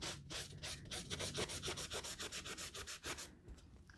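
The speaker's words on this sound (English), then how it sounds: "So you just rub it." A dirty shoe rubbed with shoe cleaner, a steady rapid back-and-forth scrubbing of even strokes, close and alone, easing off near the end.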